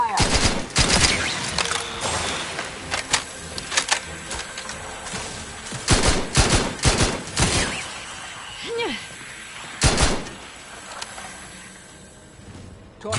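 Gunfire in The Outer Worlds 2 rings out in sharp bursts and rapid volleys spread across the scene, separated by quieter pauses, with game voices heard between shots.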